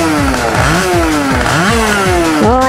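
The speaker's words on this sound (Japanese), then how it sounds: "ちょっとね、エンジンスタートやっていこうかなと思います。" Honda NS-1 motorcycle engine starting after three months idle, loud and close, with repeated revs rising and falling in quick succession.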